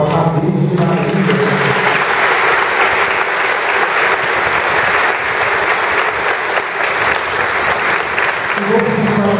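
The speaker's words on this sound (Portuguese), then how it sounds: "vamos dar uma salva de palmas à Virgem Maria" A church congregation at a novena for Our Lady of the Conception breaks into loud, sustained applause for the Virgin Mary, a dense wash of clapping from many hands that fills the space steadily throughout.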